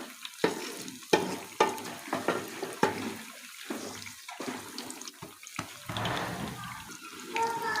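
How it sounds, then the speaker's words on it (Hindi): Eggplant chips fry on low heat in a pan, giving a close, bubbling sizzle broken by sharp scraping and clattering stirs at irregular intervals, with no talking. "हल्की आंच पे फ्राई करेंगे, क्योंकि अंदर तक बैंगन को पकाना है हमें"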